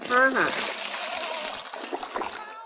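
Bare feet tread and knead sticky wet clay mud for brick-making, giving steady squelching splashes close by, with a voice heard at the start.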